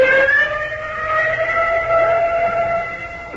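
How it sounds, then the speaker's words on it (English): An ambulance siren sounds in a 1948 radio comedy. A loud, sustained wailing tone glides slowly in pitch with a slightly echoey, distant quality and no talk over it. "Golly, the ambulance."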